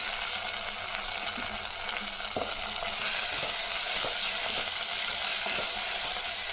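Onions and a large tomato sauté in a pan for a Kumbakonam kadappa, giving a steady close frying sizzle with a few soft spoon scrapes and knocks against the pan.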